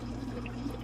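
Water pours steadily into the sump chamber of a reef aquarium, a soft, continuous trickle heard up close and alone.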